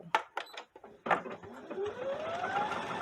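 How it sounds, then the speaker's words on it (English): Brother sewing machine stitching decorative lettering: a few short mechanical bursts, then a continuous whirring hum with a rising whine as the machine runs steadily, close and fairly quiet. "and then I'm just going to start to sew"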